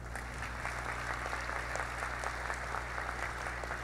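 An audience at a corporate social responsibility award ceremony claps continuously, a dense steady patter of many hands over a low hum, with no voices.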